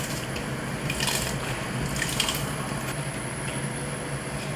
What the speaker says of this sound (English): So now I'm going to pour the rice.